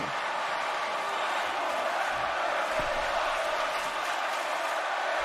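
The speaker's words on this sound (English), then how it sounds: "Listen to the crowd." A packed wrestling arena crowd in New York City roars steadily at a pay-per-view event, a broad, continuous wash of cheering that stays loud and unbroken from start to finish.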